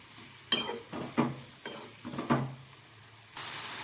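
Tomatoes sauté in a pan for black chana kulambu, with four or five spaced stirring scrapes and bursts of sizzling over a soft background hiss that swells into a steadier sizzle at the end.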